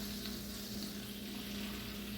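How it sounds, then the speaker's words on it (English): Pork rib cooking liquid from a crock pot sizzles in a hot skillet with a steady, faint crackling fry and no voices. "we're going to take some of this liquid out of the crock pot and put it into our hot skillet"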